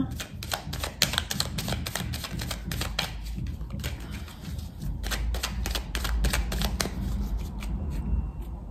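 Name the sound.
cutting a deck of tarot cards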